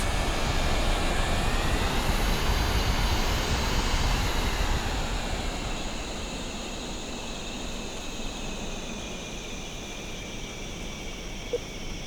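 A small aircraft in Kerbal Space Program 2 takes off from a runway, its steady engine drone loud and constant and then easing slightly as it climbs away, with no talking.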